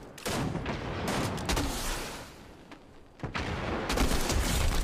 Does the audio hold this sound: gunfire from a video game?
yes